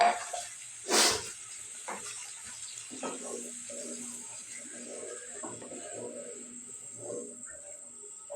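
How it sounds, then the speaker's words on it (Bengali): Water poured onto hot cooked-down masala for a duck egg curry with potato and tomato bursts into one sharp, loud hiss of steam, then settles into quieter bubbling and faint sizzling. "এখন এর মধ্যে আমি জল দিয়ে দিব"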